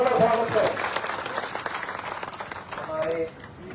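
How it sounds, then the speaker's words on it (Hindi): A crowd claps at a Rajasthan Congress political meeting, steady applause running throughout beneath a loud voice speaking over a microphone. "और जोरदार ताली बजाकर मैं राव साहब का स्वागत है।"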